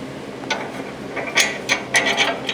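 Ratchet clicking in short, spaced bursts while bolts are run up through the control arm and knuckle on a Toyota Tacoma SR5 4WD front CV axle; close and moderately loud, with no talk.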